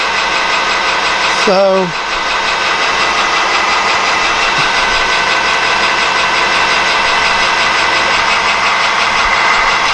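A metal lathe turns parts for a kitchen shelf, giving a steady, close mechanical hum throughout with a brief spoken word near the start.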